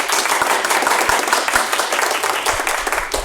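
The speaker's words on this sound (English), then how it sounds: "Can we have applause for Sally?" Brisk, dense applause from a conference audience at a panel discussion, close and even throughout the short burst with a few sharper individual claps.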